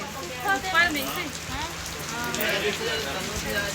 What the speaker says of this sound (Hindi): बरसात बने पानी गिरे इसमें